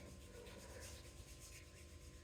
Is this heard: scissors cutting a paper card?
no